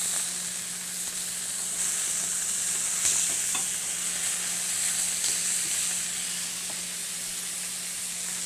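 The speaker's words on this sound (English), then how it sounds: "Now that our steaks are seared for 2 minutes per side" Steaks sear in a hot skillet with a steady, loud sizzle and hiss that holds evenly throughout, with a few faint pops and no talking.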